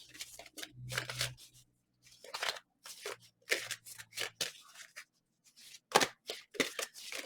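Deck of cards being shuffled by hand, giving repeated bursts of riffling and flicking in uneven clusters with short pauses between them, close and fairly quiet.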